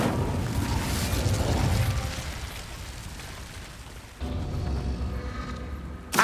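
Incendio fire spell cast in Hogwarts Legacy, a loud whooshing burst of flame with rumbling booms, followed by a fresh surge of fiery noise near the end, heard alone without talk.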